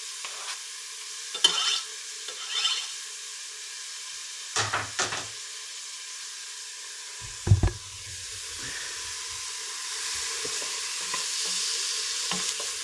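Onions and minced garlic sauteing in a pan give a soft, steady sizzle and hiss, broken by a few sharp utensil clinks and scrapes, close-up with no voices.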